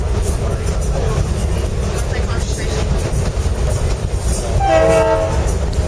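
A train on the three-hour trip to Machu Picchu rumbles steadily with rolling wheel noise, and a horn sounds briefly near the end.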